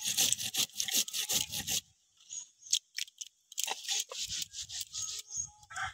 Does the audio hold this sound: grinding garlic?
yes